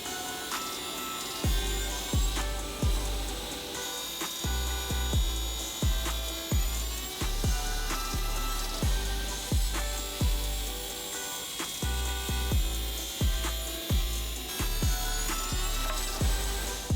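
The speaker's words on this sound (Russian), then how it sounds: "И снова переносить на циркулярную пилу, для того, чтобы края гарантированно были ровными." Circular saw trimming the edges of a glued wooden block, a steady loud whine broken by repeated regular cuts, each pass bringing a low thump and a shift in pitch, with no talk.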